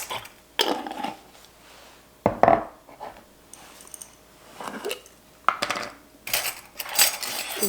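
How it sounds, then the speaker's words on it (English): Hard dry cardamom pods rattle and clink into a bowl in several separate bursts, small close-up clatters with quiet gaps between, no talking. "We're gonna start out with 1 tablespoon of cardamom pods"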